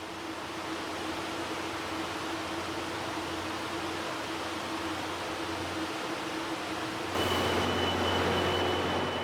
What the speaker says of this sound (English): This time, our train pulls into track number 3.